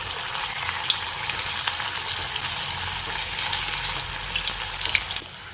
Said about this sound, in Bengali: একইভাবে বাকি কাবাবগুলোকেও ভেজে নিচ্ছি